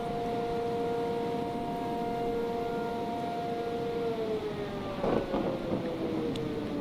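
Tornado sirens wail steadily in a modded Minecraft tornado survival game, a sustained drawn-out tone that slowly falls in pitch over constant storm noise and wind, with no talking.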